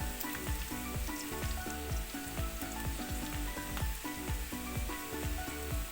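Kappa biryani of tapioca and beef fries in a pan, a steady loud sizzle with repeated scraping stir strokes throughout and no voices.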